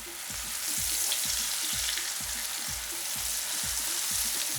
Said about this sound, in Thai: แล้วก็นำลงไปทอดด้วยน้ำมันร้อนๆนะครับ